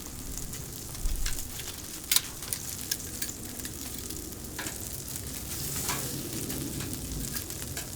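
A NY strip steak sizzles on a Pit Boss grill in a steady, even hiss with faint crackles and pops throughout, close and continuous with no talking.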